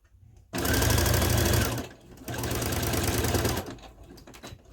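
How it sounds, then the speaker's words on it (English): A sewing machine backstitches on an apron in two loud, close bursts of rapid whirring separated by a brief pause, followed by softer clicks and handling noises. "Line it up. Drop my needle down. Little back stitch."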